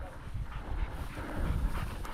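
Hunting dogs pant hard and steadily, close by and breathy, with a faint whimper, during a windy public-land pheasant hunt in Nebraska.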